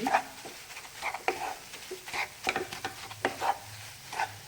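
A spoon stirs a thick, frothy Mysore pak mixture of gram flour and ghee in a pan, giving soft scraping strokes and faint sizzling, close and moderately quiet, without speech.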